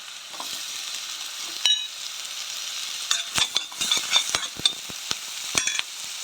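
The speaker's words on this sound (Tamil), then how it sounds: "இப்போ கேரட் போடுவோம்." Sliced carrots sizzle steadily in a hot pan for penne pasta, with a string of sharp utensil clicks and scrapes from stirring breaking through the close, continuous frying hiss.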